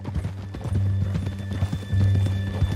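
Horse hooves clip-clop steadily in a quick, regular rhythm in Red Dead Redemption II, close and fairly loud over a low ambient rumble, with no talk.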